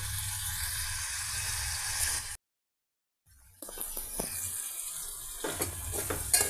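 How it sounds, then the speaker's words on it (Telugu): Curry ingredients frying over a medium flame give a soft, steady sizzle, broken by a second of silence and then resuming with light stirring scrapes and crackles. "ఇక ఇవి మీడియం ఫ్లేమ్ మీద చక్కగా ఫ్రై అవనిద్దామండి."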